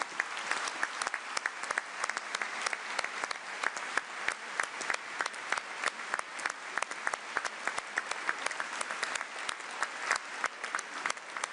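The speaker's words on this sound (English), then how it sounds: "And give them a round of applause." Sustained applause from a large conference audience for workers called to the stage, dense and even clapping continuing throughout at moderate distance.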